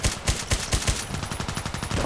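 FN SCAR-H rifle in Contract Wars fired on single shot: five sharp, evenly spaced reports about a quarter second apart, then a quieter, denser patter of follow-up noise.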